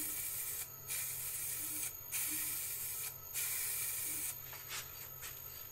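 A spray finish is misted onto a turned wooden vase in about five short bursts of hiss, each a second or less, close and moderately loud over a quiet background hum.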